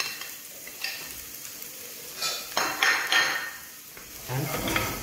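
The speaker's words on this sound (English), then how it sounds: "and stir fry it" Chopped garlic and onion are stir-fried in a hot pan with a sizzling hiss, while a utensil scrapes and clatters against the metal in quick, uneven bursts close by, with no talking.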